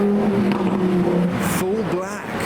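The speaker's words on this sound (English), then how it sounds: "the next noisy supercar of the day is this Lamborghini Huracan" A Lamborghini Huracan STO supercar driving through London streets, its engine giving a steady, sustained note that rises briefly in pitch near the end, moderately close, with people talking over it.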